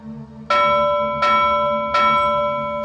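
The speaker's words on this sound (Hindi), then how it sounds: "मैं कहती हूँ बंद कर घंटी बजाना" A bell in a Pakistani TV drama scene is struck three times at an even pace, each loud ringing stroke lingering and overlapping the next, with no speech.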